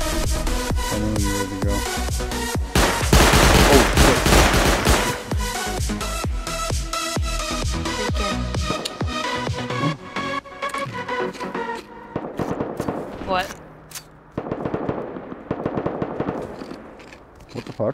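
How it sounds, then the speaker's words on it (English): Heavy bursts of gunfire and rounds landing close by in a modded Rust match, loud dense volleys and impacts that thin out toward the end, under occasional voices. "those rounds are landing right near us"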